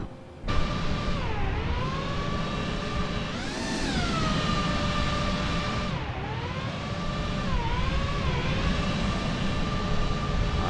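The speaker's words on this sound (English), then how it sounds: "that's the APU sound, it's super loud." A Boeing 787-9 auxiliary power unit running in Microsoft Flight Simulator 2020, a loud, steady turbine whine with layered tones that slowly rise and dip over a rumbling roar, continuous and alone.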